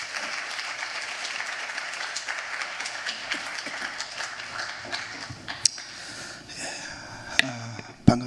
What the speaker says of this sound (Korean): 나오실 때 우리 감사한 마음을 담아서 박수로 우리 환영하도록 하겠습니다.